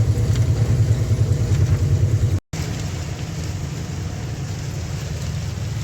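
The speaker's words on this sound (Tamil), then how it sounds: "மழை பெய்யுது" Steady heavy rain in Madhya Pradesh hisses continuously, with a low rumbling wash underneath and a brief dropout partway through.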